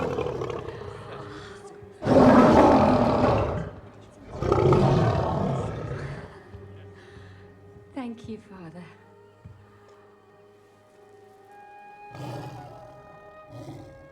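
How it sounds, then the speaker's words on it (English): A rare black lion presented as a wedding gift in a medieval fantasy film lets out two loud, deep roars close up, followed by someone speaking briefly and quieter scene sounds. "presenting the couple with a rare black lion"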